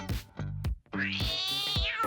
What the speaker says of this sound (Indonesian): Ada segerombolan kucing kelaparan di bawah meja.